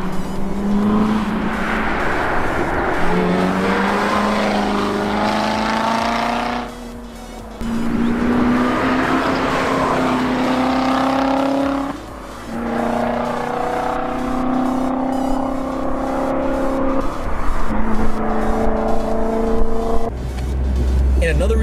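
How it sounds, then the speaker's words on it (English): A 2019 Corvette ZR1's supercharged engine sounds loud and close, with a rising supercharger whine over the engine note. It comes in four long bursts of building revs, separated by brief dips. "that is obviously a supercharger to me"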